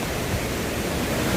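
Water gushes over the Hosur dam in a steady, dense roar that fills the short moment with no break.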